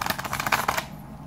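Tarot cards are shuffled in quick riffling bursts for under a second, crisp and close, then fade into quiet.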